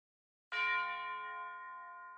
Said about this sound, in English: Outside, a bell rings.